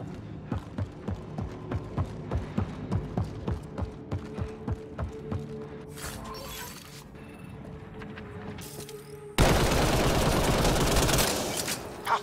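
Rapid bursts of gunfire from the video game Mass Effect Andromeda, a steady string of sharp shots over a low ambient drone, ending in a loud dense crash of noise.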